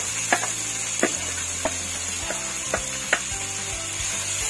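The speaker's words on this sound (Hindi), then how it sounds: "हम इसमें डालेंगे ये कटी हुई कद्दूकस की हुई प्याज," Grated onion and chopped green chillies frying in oil for veg steam momos filling, with a steady close sizzle and a few sharp utensil clicks and stirring knocks scattered through.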